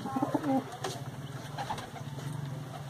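Pet pigeons at a pigeon club in Delhi, soft close cooing in a few short phrases, with someone talking over them.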